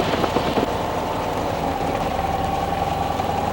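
Piper Super Ace light aircraft engine idling steadily while taxiing, a continuous loud drone with low throbbing pulses and a constant tone, no voices over it.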